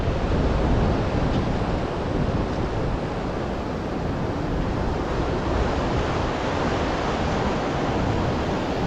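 Waves surge against the rocks at the Digha river mouth, where the stone banks resemble Mumbai's Marine Drive; the water makes a loud, steady, close-up roar of churning surf with wind, and no voices are heard.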